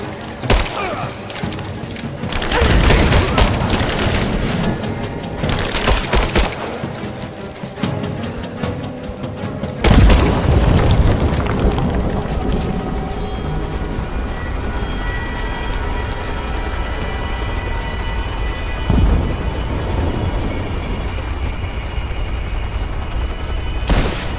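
Gunfire in a firefight in Rise of the Tomb Raider, sharp volleys and booming shots in the first ten seconds, then a lingering rumble of the battle with scattered hits, mixed with game sound and shouting.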